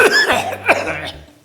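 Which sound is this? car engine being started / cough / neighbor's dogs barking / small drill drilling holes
cough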